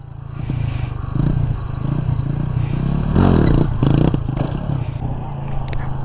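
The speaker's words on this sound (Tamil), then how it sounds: "த்ராட்டில் கொடுங்க ப்ரோ, த்ராட்டில்" A motorcycle engine revs under repeated throttle during wheelie stunt training outdoors, loud and close, with surging bursts and rattling clatter throughout.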